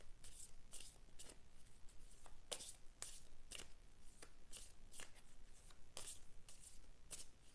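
Oracle cards shuffled by hand before drawing, a steady run of crisp riffling bursts repeating every fraction of a second, close and fairly loud with no talking.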